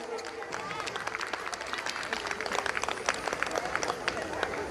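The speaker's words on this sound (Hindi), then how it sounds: "पिताजी के लिए जोरदार तालियां बजाइए" A crowd at a religious gathering in a temple claps for an elder, with dense, steady applause that is moderately close and lasts several seconds, mixed with some crowd noise.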